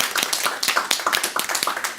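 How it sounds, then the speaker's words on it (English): Audience at a panel discussion on gendered online abuse claps for the panelists, a short burst of scattered, uneven hand claps that are fairly close and moderately loud, with no talking over them. "please give a warm applause to our panelists."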